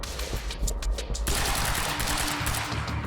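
Sustained automatic gunfire from Quantum Break hammers close and loud, a dense rattle of shots running nearly the whole time with little pause and no talk.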